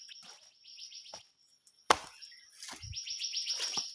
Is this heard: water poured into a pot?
no